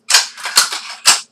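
Air rifle shots in Garry's Mod crack out in three sharp, loud bursts, each trailing into a brief hiss, with no voices.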